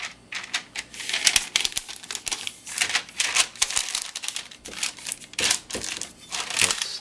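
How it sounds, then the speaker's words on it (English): A sheet of parchment paper is handled and pressed into a buttered baking pan for lemon squares, giving close, bright crinkling and rustling in uneven bursts throughout, fairly loud with no talking. "And then I'm going to put in a sheet of parchment paper"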